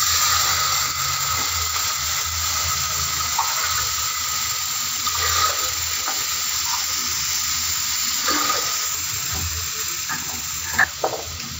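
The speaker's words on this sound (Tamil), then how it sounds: "இப்போ நான் தண்ணி சேர்த்துக்கிறேன்" A steady rush of water poured into a cooking pot of sambar runs continuously, with faint clinks and kitchen clatter now and then, and no talking.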